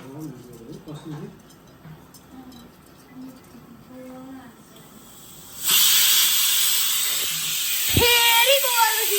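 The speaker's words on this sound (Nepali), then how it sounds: "फेरि कुकरको सिटी गयो" A pressure cooker on a home stove making potato pickle and kheer lets out a loud, steady steam whistle that bursts in midway and hisses on to the end, after quiet talk and kitchen sounds.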